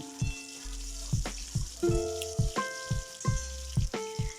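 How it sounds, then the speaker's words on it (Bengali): Crushed garlic fries in hot oil with dried chillies and five-spice for a mustard-based dish. It crackles and sputters in quick, uneven pops, mixed with ringing metallic clinks from the pan, close and without speech. "রসুনটাকেও আমি এবার ভালো মতো করে তেলের মধ্যে ভেজে নেব"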